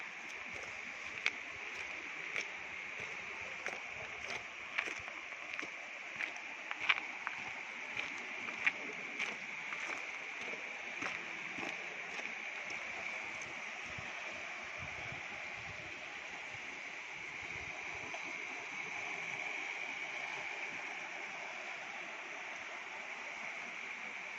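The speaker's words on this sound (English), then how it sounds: "The river, beautiful water." Steady, gentle rush of river water running beside a hiking track benched into the Kaweka cliffs, a continuous faint flow with occasional small splashes and ticks.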